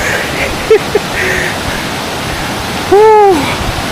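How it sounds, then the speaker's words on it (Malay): Roar of a tall waterfall in Malaysia fills the scene as a steady broadband rush heard from a viewing platform, with a couple of brief voices and a short whistle-like tone rising above it. "Air terjun."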